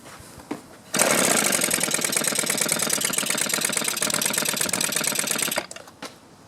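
A two-stroke string trimmer engine is pull-started, catches and runs at a high, buzzing rattle for about five seconds, then cuts out abruptly, with a few faint knocks before and after.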